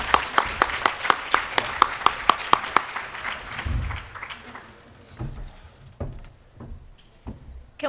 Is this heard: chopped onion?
no